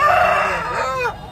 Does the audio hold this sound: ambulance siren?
no